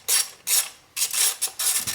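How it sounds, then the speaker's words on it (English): A ratchet wrench loosens the nuts on a Honda Civic valve cover, making several short bursts of fast clicking ratchet strokes with brief gaps between them, close up. "I'm going to go ahead and remove the 4 nuts here that hold down the spark plugs."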